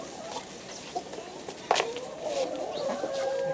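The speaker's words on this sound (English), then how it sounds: "Here's the chooks in their house." Chickens cluck inside a bamboo chicken house, with soft clucks and calls close by over a steady background and a sharper call partway through.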